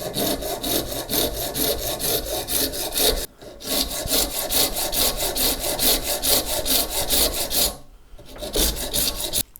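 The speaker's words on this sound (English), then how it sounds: "hopefully this will hold it while we just take the bulk of this waste off with the saw rasp" A saw rasp cuts waste from a bone guitar nut for an ES-335-style build, producing fast, even, loud rasping strokes up close, broken by two brief pauses.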